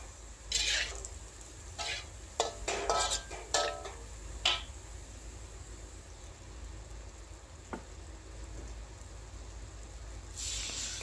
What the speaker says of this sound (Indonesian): kita aduk-aduk bersama bumbunya